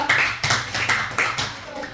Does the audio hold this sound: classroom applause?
yes